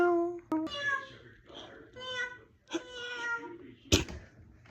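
A child imitates a cat with a drawn-out voiced meow, followed by a few more short vocal bursts and a sharp sound near the end, close and indoors.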